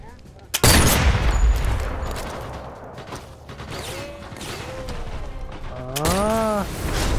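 Gunfire in the VR shooter Sniper Elite VR: a sharp, loud rifle shot cracks near the start, followed by a fading echo, mechanical clicks and a voice talking later.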